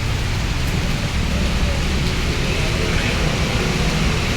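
Strong rain lashes down continuously for several seconds, a loud close hiss with a heavy low rumble beneath and a few faint spattering accents.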